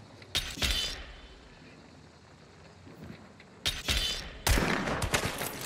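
Sharp gunshots from The Last of Us multiplayer come in a few loud clusters with quiet stretches between them, close by and with no talking over them.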